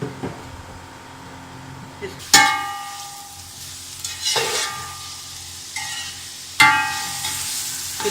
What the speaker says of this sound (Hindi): ये बॉयल चिकन है, ये देखिए फ्राई होना शुरू हो गया है।